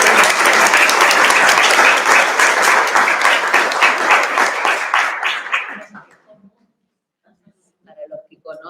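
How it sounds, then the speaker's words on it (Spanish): Warm, dense applause from a conference audience at a psychoanalysis research event, steady loud clapping for about five seconds before tapering off into quiet, with a few faint sounds afterward. "Aplaudimos."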